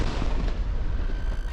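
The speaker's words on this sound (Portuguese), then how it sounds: "Ouvimos tiros e explosões." Heavy gunfire and explosions from the Gaza Strip, a dense, rumbling barrage of low booms and cracks filling a short stretch with no pause.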